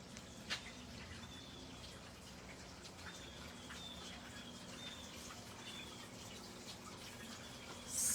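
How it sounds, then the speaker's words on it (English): Water trickles and drips steadily in a hydroponic food-growing tower outside a cohousing home, a faint, continuous patter with occasional distinct drops and a few bird calls in the background. "You could probably hear the water actually."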